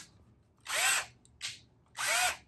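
A power drill in hammer mode whirs in short bursts, revving up and spinning down three times, loud and close.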